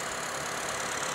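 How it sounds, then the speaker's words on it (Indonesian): A 2013 Honda Freed E PSD facelift with a 1500 cc i-VTEC engine idles smoothly, a steady, fairly quiet hum with no rough knocking. "Dan ini suara mesinnya."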